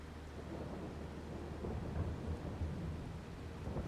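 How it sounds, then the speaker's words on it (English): Rain falls steadily with low rumbling thunder in Farming Simulator 22, a continuous wash of rain over a deep rolling rumble. "Very rainy episode."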